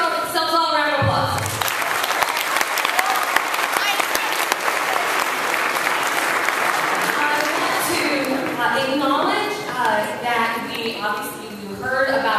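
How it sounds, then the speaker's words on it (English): An audience at a school arts day event applauds steadily for several seconds, a dense wash of clapping, with voices talking over it as the applause fades toward the end. "So give yourselves all a round of applause."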